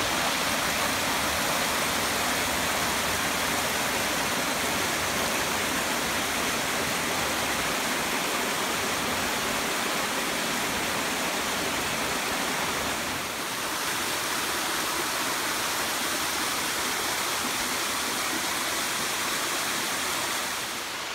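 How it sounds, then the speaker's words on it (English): Glen Onoko Falls waterfall and its stream in Lehigh Gorge, Pennsylvania, a steady, full rushing roar of falling water close by, constant throughout with no voices. "a view of the stream and the waterfalls"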